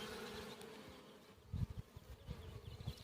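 Honeybees buzzing around an opened hive during a queen inspection, a faint steady insect drone with soft thumps and handling noise near the end.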